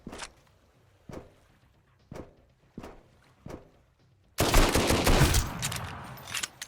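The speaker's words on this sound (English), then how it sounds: "he was shooting me through the wall" Gunfire in the survival game Sunkenland: five sharp single shots spaced about a second apart, then a loud, sustained burst of heavier firing that slowly trails off.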